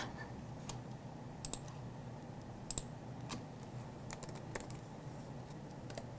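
Text is typed on a computer keyboard in a quiet room: light, uneven key clicks come in short bursts, with a few sharper taps standing out, close up and fairly faint.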